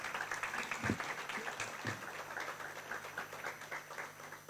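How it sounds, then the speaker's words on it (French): Modest, thin applause rises for M. Pépin at the opening ceremony of the 37th Festival de Gwo ka, scattered claps from a moderate crowd fairly far off, with a couple of louder knocks early on. "Encore des applaudissements pour lui, s'il vous plaît."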